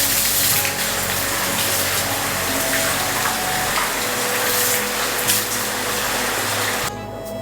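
A river murmurs as a steady, loud, close rush of water beside a private outdoor hot spring bath at a Kinugawa Onsen hotel, continuous throughout with no talk.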